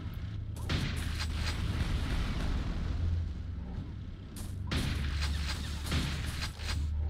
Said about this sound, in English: Look at it doing its AI thingy. Shooting where it's expecting me to stand.